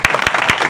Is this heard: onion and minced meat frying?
no